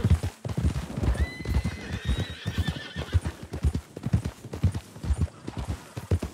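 A horse in the Red Dead Redemption 2 video game trots with steady clip-clopping hooves and gives a whinny partway through, while someone talks over the rhythmic footfalls.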